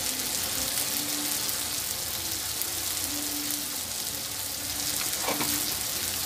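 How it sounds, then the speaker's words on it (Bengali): Spices sizzle and fry in a pan with chicken, Kashmiri chili powder and coriander powder among them, making a steady, dense crackle throughout with a brief scrape partway through and no talk. "আমি ভালো করে এটাকে মশলাগুলোকে কষিয়ে নেব"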